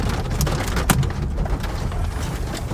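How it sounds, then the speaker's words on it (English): Small hailstones fall during an Oklahoma storm under a tornado warning, a dense close patter of many hard taps and ticks on surfaces with a few louder impacts, steady throughout and without speech. "Hailstones, little ones."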